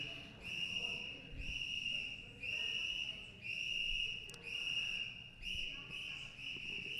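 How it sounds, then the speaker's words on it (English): A shrill whistle blown again and again in steady bursts of about a second each during a Los Angeles City Council meeting, cutting over a murmuring room with faint voices. "he is further disrupting the meeting with a whistle"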